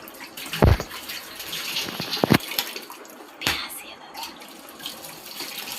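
Running tap water splashes while dishes are washed, a continuous close hiss with a few louder clunks and splashes over it, as people talk in the background.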